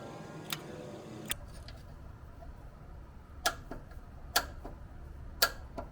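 Torque wrench tightening the oil drain plug on a 2021 Toyota Tundra, a few crisp metallic ticks and clicks spaced irregularly over quiet background, close and fairly faint.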